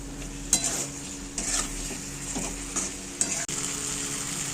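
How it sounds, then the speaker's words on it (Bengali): Boiled potatoes sautéed in a spiced masala for a Shankar fish curry: a constant low sizzle in the pan with a few sharp scraping knocks of a spoon against the pot. "আলুটা মশলার সাথে 5 মিনিট কষিয়ে নিয়েছি"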